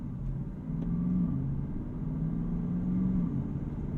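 An Aston Martin DBX 707 SUV driving in GT mode, its engine a low steady droning rumble from inside the cabin with slight rises as it pulls through the first gear changes, no talk.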